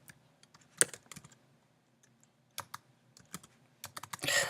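Faint, sparse keystrokes clatter on a computer keyboard in irregular clusters with long pauses between, ending in a quicker run of typing, with no talk.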